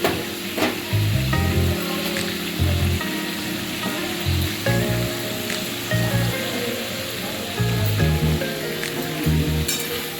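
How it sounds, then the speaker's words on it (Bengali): Chopped onion sizzling in hot oil for a chicken dish, a steady, fairly loud crackling hiss that runs throughout, with low, rhythmic thumping tones faintly underneath and no voices. "এরপর একটু দিয়ে দেবো এই কুচিয়ে রাখা এই পেঁয়াজ"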